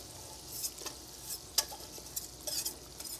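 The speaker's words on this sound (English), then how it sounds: "what you want to do is add a hot roux" Hot roux being stirred into milk for a bechamel sauce, a soft continuous scraping and sizzling with a few brief louder clinks and spoon strokes, fairly quiet and close, with no talking.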